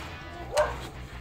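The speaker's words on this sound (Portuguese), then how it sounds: "só não liguem pros cachorros latindo aí" Dogs bark in the background of a room, with one sharp bark standing out over a low steady hum, moderately distant.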